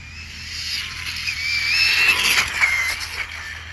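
A Xinlehong Q901 1/16-scale brushless RC car on a top-speed run at half throttle, its high electric motor whine rising and swelling as it passes fairly close, then easing off.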